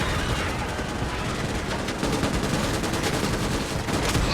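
Mounted MG turret firing at bugs in a video game, a continuous loud stream of rapid machine-gun fire that hammers without pause.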